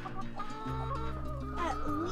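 Laying hens cluck and squawk in a short burst of overlapping calls, close and fairly loud, with a rising squawk near the end.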